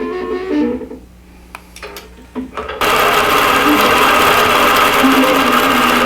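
A quilting machine stitching a quilt starts up after some brief talking and clicks, then runs as a loud, close, steady high-speed mechanical whirring and rattling drone.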